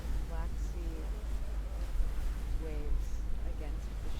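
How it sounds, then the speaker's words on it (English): Waves of the Black Sea against a ferry ship, a steady low rushing wash of water and wind noise, with faint voices and bird-like chirps breaking through now and then. "That's the sound of the Black Sea"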